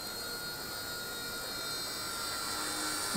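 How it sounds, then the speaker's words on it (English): An RC helicopter's electric motors whir with a thin, steady tonal whine that builds slightly as throttle is applied, fairly quiet and heard alone. "Starting the controls. There are motors. Giving it throttle."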